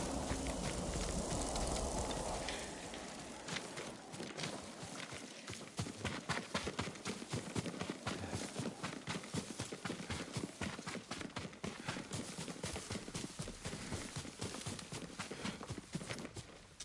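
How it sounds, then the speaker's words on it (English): A horse gallops in Ghost of Tsushima, its hooves pounding in a quick steady rhythm under a windy rush of movement, loud and close throughout. "Yuriko's horse."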